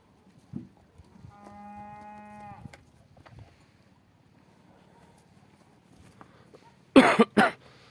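A cow moos once, a sustained low call from inside a farm animal shelter, followed by quiet shuffling and then two short, loud noisy bursts near the end.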